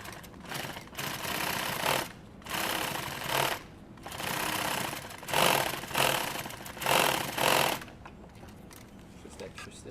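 Sewing machine stitching upholstery, running in several loud, steady bursts of a few seconds each with brief pauses between, close by, with people talking at times.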